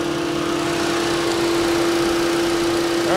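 A 2015 Volkswagen Passat Limited Edition with a 1.8-liter turbocharged engine idling close up, a steady drone with a strong constant hum and no talk.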